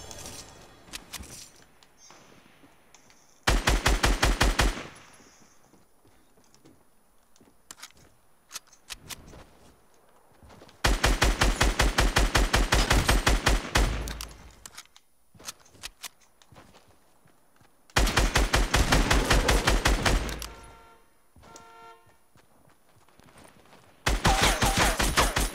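SCAR rifle gunfire in Fortnite, several loud bursts of rapid automatic fire separated by quieter stretches of footsteps and game ambience, close and punchy.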